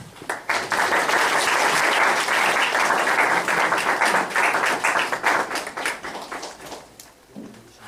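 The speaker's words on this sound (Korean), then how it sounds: "박수로 일단 환영해 주시면 감사하겠습니다" An indoor audience claps to welcome a lecturer to a theology talk, the applause dense and steady for several seconds, then thinning into scattered claps as it fades.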